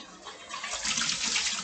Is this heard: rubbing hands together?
no